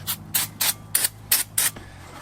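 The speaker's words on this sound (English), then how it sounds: "So we're gonna take some brake part cleaner and we wanna clean these rotors really good" Brake part cleaner sprayed onto the brake rotors of a Sprinter van, six short hissing bursts in a steady rhythm, each loud and close, with a quiet pause between them and no talking.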